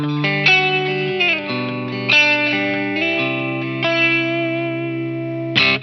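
An electric guitar played through the dynamic hall reverb on a Line 6 HX Stomp rings out in sustained chords and single notes, each change swelling into a lush, lingering hall tail, loud and clean with no voices.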